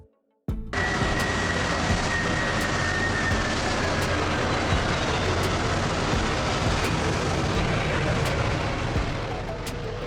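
A customized Boeing VC-25A, serving as Air Force One, gives a loud, steady jet roar with a faint whining tone running through it. The sound holds constant from start to finish, with no talking.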